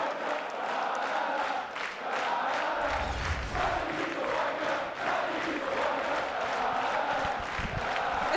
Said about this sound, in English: Clayster, he's feeding off this crowd